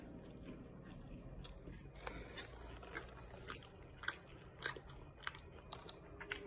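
Churro cheesecake tacos served with vanilla ice cream being eaten up close, with soft chewing and crunchy bites repeating steadily through the moment, quiet and without talk.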